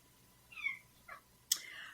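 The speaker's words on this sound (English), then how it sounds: "If you guys hear that meowing in the back, that is my cat." A domestic cat meows faintly in the background of a quiet room: three short calls, the last slightly sharper and more drawn out.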